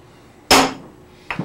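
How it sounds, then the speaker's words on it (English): A brass hammer lightly taps a blunt-faced chisel to peen a connecting rod nut on a Type 1 VW 1500-1600cc engine, giving one sharp metallic strike followed by a quicker, softer second tap, close and alone. "Here I'm using a blunt-faced chisel and lightly tapping it with my brass hammer."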